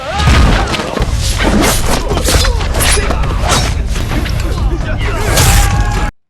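Film explosions as gangsters blow up a rival's properties, loud booms, crashes and shattering debris sustained across the scene with a dense, continuous roar.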